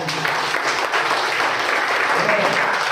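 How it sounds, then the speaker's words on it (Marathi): An audience at a speech breaks into loud, dense applause that holds evenly throughout, with a voice faintly audible under the clapping. "जोरदार टाळ्या"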